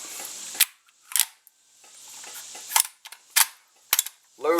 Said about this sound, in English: load and fire our shell